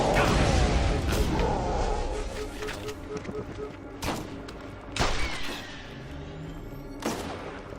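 Gunfire from headshots in the video game Borderlands, a close, loud volley at the start followed by several separate sharp shots, with someone talking over them.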